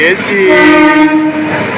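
A Guntur to Ernakulam passenger train rumbles steadily nearby, its long drawn-out horn tones sounding over the rolling noise throughout the short clip.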